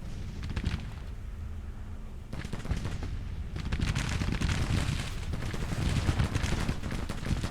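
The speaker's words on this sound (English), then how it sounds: "That artillery is absolutely making its mark." Artillery fire in Grand Tactician: The Civil War, including 6-pounder cannons, rolls steadily across a battlefield as repeated distant booms and crackling volleys under a dense rumble, at modest overall loudness.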